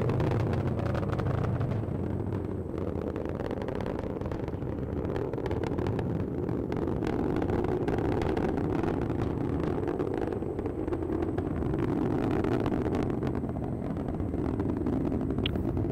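A Vulcan rocket climbs during its CERT-2 launch, its BE-4 engines and solid rocket boosters giving a steady, dense, distant roar that holds without a break, with no voices over it.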